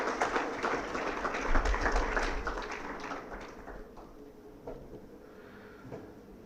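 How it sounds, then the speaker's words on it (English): Applause from a corporate retreat audience welcoming a new school-board CEO, a dense wash of clapping that is loudest early and thins out over several seconds with no talk over it. "Let us welcome Mr. Ladakh with a big round of applause once again."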